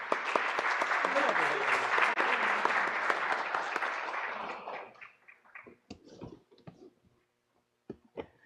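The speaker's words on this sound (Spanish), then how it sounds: "Aquí recibimos con fuertes aplausos también" An audience at a training-course closing ceremony claps loudly and continuously for several seconds, then the applause thins to a few scattered claps.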